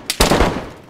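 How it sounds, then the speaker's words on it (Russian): In DayZ Standalone, a quick burst of gunfire starts with a small crack and is followed by a louder, heavier shot with a rumbling tail, close and loud. "С этого стреляет."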